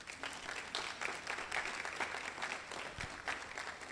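Faint, distant applause from the audience at an international conference opening ceremony, a steady patter of many hands with a few sharper claps, continuing for several seconds.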